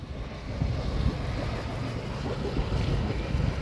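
A steady low rumble of a boat motor mixed with wind and water noise, continuous and fairly close, with gusts buffeting the microphone.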